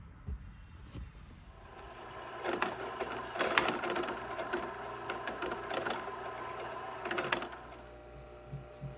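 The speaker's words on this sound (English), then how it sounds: "You just see me winding the bobbin on the sewing machine" A sewing machine whirs steadily while winding a bobbin, a continuous mechanical hum with rising and falling rattles, nearby and moderately loud.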